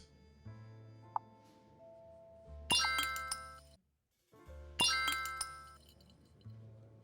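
Ice cubes clink and tinkle into a glass in a bar in the video game One Night: Burlesque, two bright clattering bursts with ringing tails over quiet background music.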